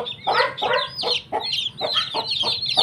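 Brahma chickens crossed with native chickens, with feathered feet, cluck in a quick run of short, close calls that repeat steadily throughout.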